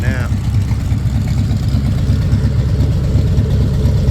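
A 1940 Ford engine idling through new tailpipes, a loud, close, low rumbling exhaust that runs steadily throughout.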